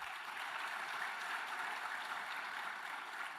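A conference audience at a business programme launch applauds, a steady even wash of many clapping hands at fairly low level, unbroken throughout.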